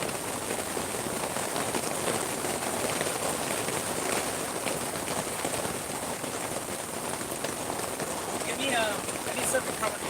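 Hail pelts down steadily outside an art market store, a dense, even rattle and hiss that carries on without a break throughout.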